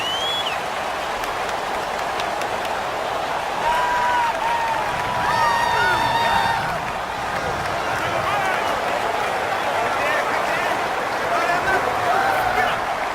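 Stadium crowd noise in the Madden 19 football video game, a loud continuous roar of fans with whistles and rising cheers, swelling slightly in the middle, while a commentator's voice carries over it.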